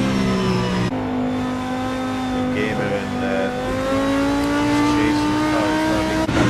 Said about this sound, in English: A lonely McLaren heading down the hill.